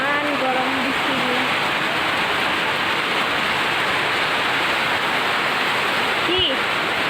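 Torrential rain pouring in a constant loud wash after a hot day, close and unbroken, with brief speech near the start and a small knock near the end.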